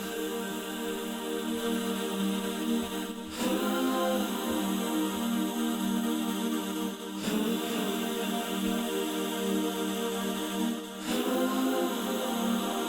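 A homemade song track soaked in heavy modulation effects, a thick sustained wash of layered sound with three brief dips or sweeps spaced evenly, steady and moderately quiet throughout.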